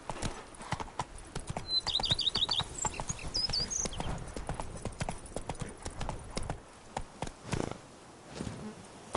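Roach, the horse in The Witcher 3, trots along with steady, close clip-clop hoofbeats in a quick even rhythm, while faint chirping and insect-like ambience sit in the background.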